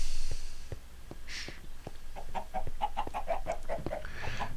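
Minecraft chickens cluck in a quick run of short, repeated calls, with small pops and clicks scattered underneath; the bird sounds are fairly close and clear with no talking.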